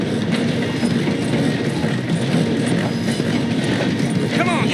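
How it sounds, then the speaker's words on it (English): A train in Red Dead Redemption 2 rolls along while slowing through a station, a steady rumbling clatter with faint rhythmic clicks, and a voice talks over it. "The train is slowing down to go through the station."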